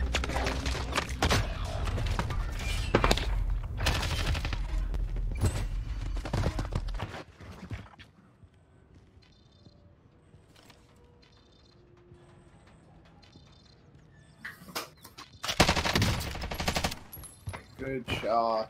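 Rapid automatic gunfire bursts loud and dense in the Warzone battle-royale shooter, falling away to a quiet stretch with faint distant shots, then erupting again near the end, with players talking over the action.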